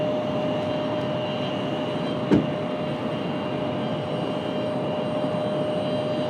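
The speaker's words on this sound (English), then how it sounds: "Oh, plane at a distance coming in." A distant airliner approaches to land at Raleigh-Durham International Airport, heard as a faint, steady engine drone that barely changes throughout, with one short click partway through.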